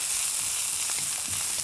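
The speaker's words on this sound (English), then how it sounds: "Keep stir-frying." Prawns with grated ginger and chilli sizzle in a hot pan during fast stir-frying, a close, loud, continuous hiss with small crackles and stirring scrapes, with no talking.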